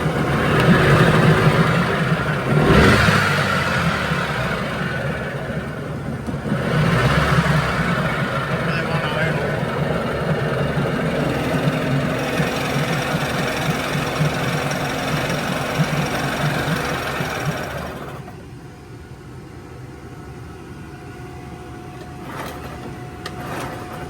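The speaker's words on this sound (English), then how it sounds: "I want to give you a little quick show on the way this motor sounds." A 1994 Evinrude 15hp outboard motor with bad crankshaft bearings runs loud and rough with a steady knocking drone, then drops to a lower, quieter idle near the end.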